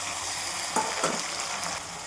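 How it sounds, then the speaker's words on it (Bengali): Onions with spice paste and chopped tomatoes frying in a pan, a soft steady sizzle with two brief louder bursts as ingredients go in, fairly quiet throughout. "পেঁয়াজটা ভাজা হয়ে গেছে, এবার মশলা করা পেস্টটা দিয়ে দেবো আর টমেটো কুচিগুলো দিয়ে দেবো।"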